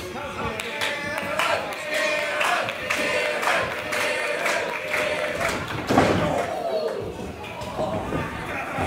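A live wrestling crowd in Selsdon roars and chants for 19-year-old Kieron Lacey during a WrestleForce championship match, steady loud cheering with thuds and claps under a commentator's voice.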